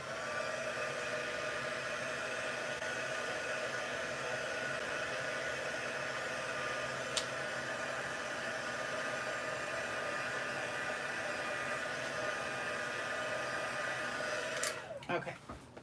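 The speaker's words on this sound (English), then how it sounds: "I think I'm going to heat it with the heat gun for a second" A heat gun blows a steady, loud whooshing drone across a wet watercolor painting for about fifteen seconds, close to the listener, then cuts off abruptly near the end.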